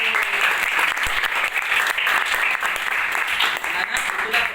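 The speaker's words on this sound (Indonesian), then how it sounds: "Boleh beri tepuk tangan untuk kelompok 4" A classroom of students applauds a presenting group during an Akidah Akhlak lesson, with a dense, steady wash of clapping that holds loud and unbroken from start to finish.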